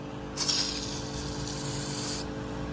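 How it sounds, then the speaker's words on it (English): High-pressure water spraying from a garden hose in a yard, a sudden hissing burst that holds steady for about two seconds and then cuts off, close and fairly loud over a low background hum. "I've got so much pressure in this hose that it'll shoot over that tree."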